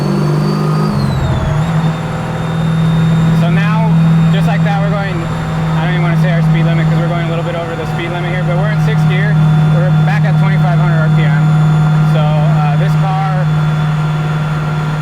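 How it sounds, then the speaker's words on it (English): Supercharged 427 LS engine in a 1969 Chevelle restomod drones steadily and loudly from inside the car, with a constant low hum and whine running beneath someone talking throughout. "You're going to hear the supercharger."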